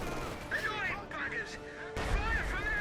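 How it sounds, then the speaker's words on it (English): Artillery fire booms from the World War II strategy game Company of Heroes 2, a dense, continuous battle din of distant blasts and gunfire running under a commentator's voice. "More artillery fire there, closing a bit here too there on the lighter Feldtau bits."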